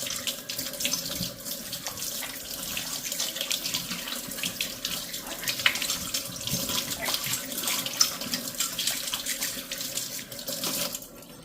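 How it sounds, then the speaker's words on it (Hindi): A kitchen tap runs steadily for about eleven seconds while a roti-making utensil is scrubbed and rubbed by hand under the stream, with faint scraping and splashing mixed into the continuous water noise. "अब इसको अच्छी तरह से रगड़ के धो लेंगे।"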